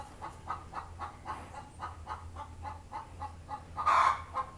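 A chicken clucks in a steady repeating rhythm, close and fairly clear, building to one louder squawk near the end over a low background hum.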